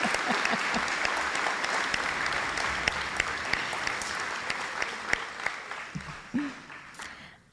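Applause from a modest crowd at a high school commencement ceremony, steady clapping that thins and fades out near the end.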